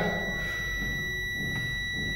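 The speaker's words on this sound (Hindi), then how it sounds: "तो ऑलमोस्ट 0 ओम्स हो गया और बजर बजने लगा।" A multimeter's continuity buzzer gives a continuous, piercing electronic tone while a wire is tested at nearly zero ohms, close and steady over a low background hum, with no talking.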